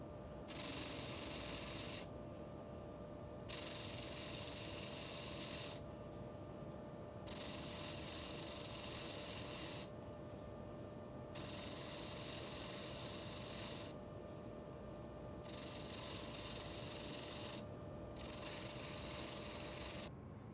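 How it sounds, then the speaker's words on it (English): Sandpaper rasps against a wooden bottle opener spinning on a lathe in repeated bursts of a couple of seconds each, separated by short pauses under a steady machine hum. "I'll just mount that in the lathe. And easily sand away that excess."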